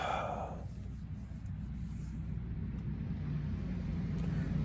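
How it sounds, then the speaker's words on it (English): A vehicle passes along a dirt road near a campsite, its low rumbling engine and tyre noise building and holding at moderate volume, with a brief rustle at the start. "There is a lot of traffic coming through here."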